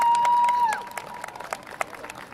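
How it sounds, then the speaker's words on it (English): Crowd applause and cheering for football and cheer seniors at a high school senior night, a bright burst of clapping that swells after a sustained tone and then fades to scattered claps. "Let's have another round of applause for our"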